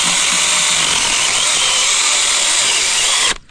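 Chainsaw cutting through a log outdoors at a snowy camp, a loud continuous high buzzing whine close by that cuts off abruptly near the end.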